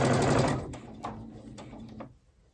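A sewing machine chain stitches rag quilt pieces at a 2.0 stitch length, a fast rattling hum of the needle that runs steadily and then slows with a few clicks before stopping.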